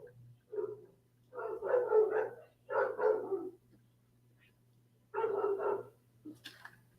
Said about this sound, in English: Big ass dog.